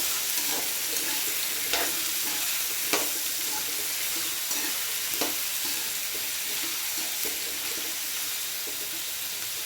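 Spices for the tempering of a potato-onion sabji sizzle steadily in a hot pan, a constant close frying hiss broken by faint stirring clicks, with no voices.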